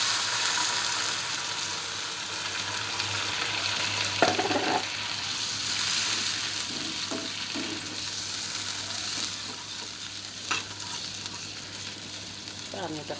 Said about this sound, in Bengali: ইলিশ মাছের পেঁয়াজ, মরিচ ভাজা হয়ে গেছে।